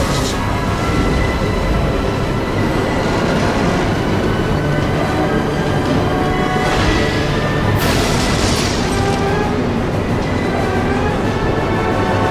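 A train in Resident Evil Zero rumbles loudly and continuously as it brakes, with heavy low-end roar, scraping metallic screeches and a couple of bright hissing bursts around the middle.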